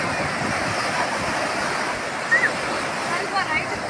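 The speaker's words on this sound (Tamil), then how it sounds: "கடல் அலை பாரு எவ்வளோ வேகமாக வருது பாரு" Sea waves at Kanyakumari beach rush in with a steady, loud roar of surf and wind across the whole stretch, and a couple of brief voices rise faintly above the wash.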